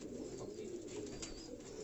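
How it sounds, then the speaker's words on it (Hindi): A flock of Sialkoti stuff pigeons kept in a Karachi loft keeps up a steady, overlapping cooing, a close, busy murmur without pauses or voices. "ये सियालकी स्टफ के कबूतर हैं जी"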